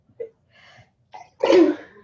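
A single sharp sneeze bursts out after a couple of quick breaths, close and alone in a quiet room.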